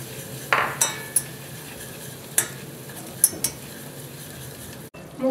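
A soft steady sizzle of flour frying in a pan, with several scattered metallic clinks of a utensil stirring against the pan.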